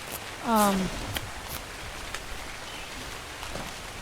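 Rain falls in the video game Ark Survival Evolved as a steady, soft hiss throughout. A brief tonal chirp sounds near the start.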